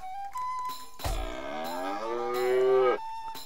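A cow moos in South Park: The Stick of Truth, one long, loud, drawn-out lowing call lasting about two seconds, set between quieter game tones, with no speech over it.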